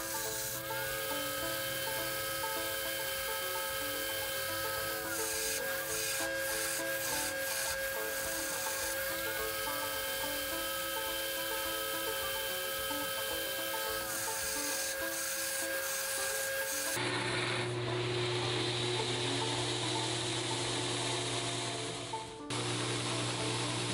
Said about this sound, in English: we're gonna go ahead and grind in a 45 degree angle